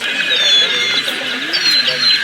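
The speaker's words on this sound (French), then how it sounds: "Il y a des oiseaux qui chantent." Outdoor birds in Amsterdam sing in thin, high chirps and short whistled phrases, several overlapping calls close by, with a faint voice in the background.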